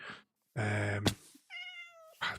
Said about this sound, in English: Cats are bloody everywhere on this one.